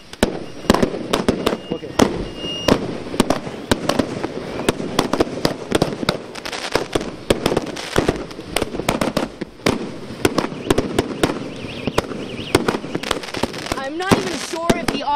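Rapid, irregular crackling and popping of fireworks and firecrackers on Tibetan New Year's Eve, many sharp bursts overlapping nearby, with a voice speaking briefly amid the din.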